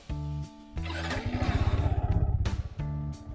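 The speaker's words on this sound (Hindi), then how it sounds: "उसके पहले इसका एग्जॉस्ट नोट भी सुन लेते हैं" A Yamaha XSR 155 motorcycle idles with a steady exhaust note, then the throttle is blipped into a quick rising rev that pulses rhythmically before dropping back to idle, loud and close.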